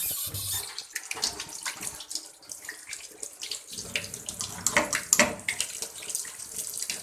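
Hands washed under a running tap during a clinical examination of a pregnant woman, water splashing steadily into a sink with shifting rubbing and splatter, moderately close and alone.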